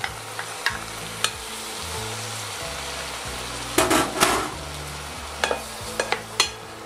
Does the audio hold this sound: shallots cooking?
yes